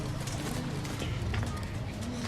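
A caged Teddy Ferozpuri pigeon coos in low, repeated throaty calls, half buried under constant loud background noise and distant hubbub.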